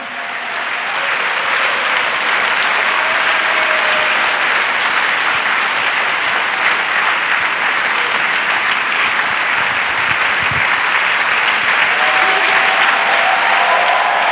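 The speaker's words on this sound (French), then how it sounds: "Let us clap for Jesus." A church congregation claps for Jesus in sustained, dense applause that fills the whole stretch at a steady loud level, with no one speaking over it.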